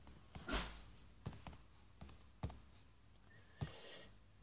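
Computer keyboard typing, a handful of separate close clicks and key taps spaced irregularly across a few seconds, quiet and with no talk.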